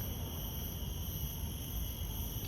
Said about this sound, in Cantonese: 咁我覺得應該都似係啲昆蟲啊，